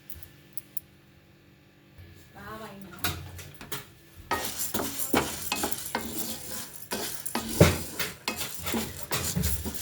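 Urad dal (minapa) dry-fries in a pan while a spoon stirs and scrapes it, the utensil knocking in repeated close strokes over a soft sizzle that grows louder partway through.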